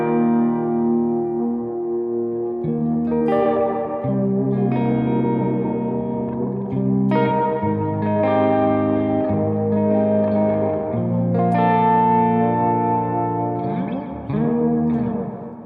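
A guitar chord voiced with an added seventh runs through a dream pop effects preset in Logic Pro, with chorus, echo and reverb. Sustained, shimmering chords ring continuously and loudly, changing several times, with no talking.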